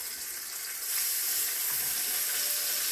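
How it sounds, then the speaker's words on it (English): Bacon browning in a frying pan during a home lunch cook, a steady close sizzle and crackle that swells slightly partway through, with no voices. "Brown up this bacon."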